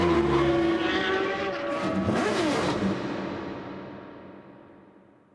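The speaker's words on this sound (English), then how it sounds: "Ladies and gentlemen, for the pride of your nations, start your engines." Racing cars at an A1 Grand Prix start fire up and rev together in a loud, dense engine roar, with one pitch sweeping up before the whole noise gradually fades away.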